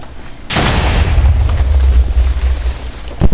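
A grenade goes off in Minecraft: one sudden loud boom that rolls into a sustained low rumble for about three seconds, ending with a sharp second burst.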